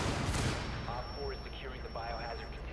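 A grenade explosion in Rainbow Six Siege, a loud boom at the start followed by gunfire and a player talking over the game noise.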